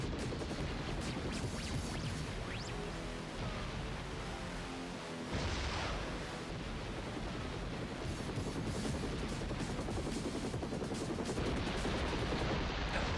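Rockets fired repeatedly in the PlayStation game 007: Tomorrow Never Dies, a dense barrage of booming launches and explosions over continuous game noise, loud and unbroken with no talking.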